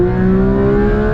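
A Porsche 992 GT3 with PDK transmission accelerates hard, its engine revving loud and close with steady harmonic tones and a sustained roar, no talking over it.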